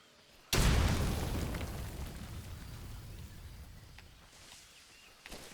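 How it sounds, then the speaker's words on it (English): A grenade blows up in Metal Gear Solid Delta, a sudden loud near boom that rolls into a long fading rumble, with small crackles near the end. "Now I would have thought a grenade would kill an alligator."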